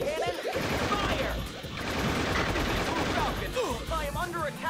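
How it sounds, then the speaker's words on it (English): A particle beam cannon fires in the Shadow the Hedgehog video game, with dense, sustained, loud blasting and crackling bursts that run continuously alongside game effects. "Particle beam cannon? Fire!"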